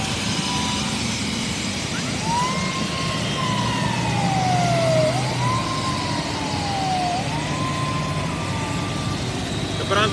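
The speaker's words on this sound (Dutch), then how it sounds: "de brandweer heet ons nog eens hartelijk welkom bij ons hier in de sirene" Fire engine siren wails in long rising and falling sweeps to greet an arriving Airbus at an airport, sounding steady and fairly near over a constant low rumble of engines and wind.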